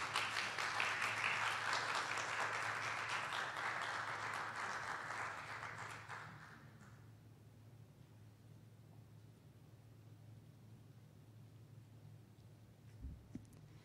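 Applause from an audience after a film screening, steady clapping for about six seconds that fades out, leaving quiet room hum.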